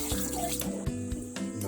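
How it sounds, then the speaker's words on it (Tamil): Water pours and splashes steadily into a pot of cooking chicken, with gurgling and a few metallic clinks, close up and without speech. "சிக்கன் வேகிறதுக்கு கொஞ்சமா தண்ணி சேர்த்துக்கலாம்."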